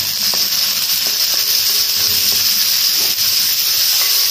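Sliced onions with salt fry in a pan for a potato curry, a loud, dense, continuous sizzle heard close up, with a few faint stirring taps and no voices.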